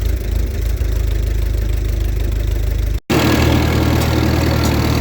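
A loud, steady low engine idling close by, rumbling evenly, with a brief cut partway through before it continues: a vintage Minneapolis Moline R tractor set up for harrowing.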